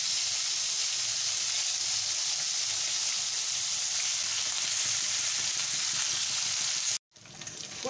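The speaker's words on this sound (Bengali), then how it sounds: "তেল দিয়ে দিয়েছি। আলু ফুলকপিটাকে ভেজে নেব।" Potato and cauliflower pieces fry in hot oil in a kadai, giving a steady, loud, close sizzle that runs evenly before cutting off abruptly near the end.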